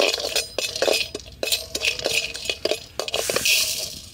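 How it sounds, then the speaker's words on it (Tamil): Cinnamon, cloves and star anise dry-roast in a pan, heard as a close, busy clatter of a spoon stirring and knocking against metal with light clinks throughout, brief and without speech. "பட்டை லவங்கம் ஸ்டார் பூ போட்டு வறுத்தெடுத்துக்கலாம்."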